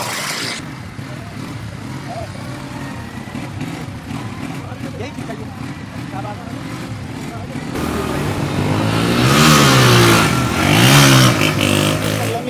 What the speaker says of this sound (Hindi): मोटरसाइकिल रेस पर चलें?